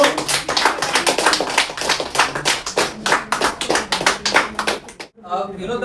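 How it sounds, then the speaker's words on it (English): Close, lively hand clapping from an audience at an award ceremony keeps up a fast patter for about five seconds before cutting off abruptly. "So huge round of applause for"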